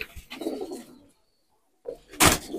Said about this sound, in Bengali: এগুলো সব মাদি কবুতর।